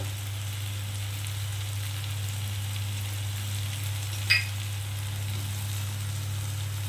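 Kachur lati (taro stolons) fry in a pan with a soft, steady sizzle under a constant low hum, broken once by a brief click near the end.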